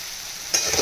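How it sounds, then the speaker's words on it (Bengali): Onion and tomato frying in oil with chilli powder and turmeric, a steady sizzle that swells louder midway as the pan is stirred, with scraping clatter near the end. "যতক্ষণ না পেঁয়াজ আর টমেটোটা নরম হয়ে যায় ততক্ষণ পর্যন্ত তেলের মধ্যে ভাজতে হবে"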